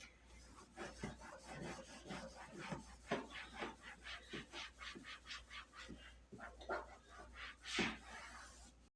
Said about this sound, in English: you want to get into all the little ridges, and you don't want to just gloss over it like this. No, you want to clean it, clean it.